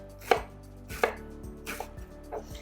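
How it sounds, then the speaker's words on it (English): A knife chops an onion on a cutting board in four distinct, evenly spaced strikes, close and crisp, with quiet pauses between them. "then you start cutting with the grooves of the onion like so"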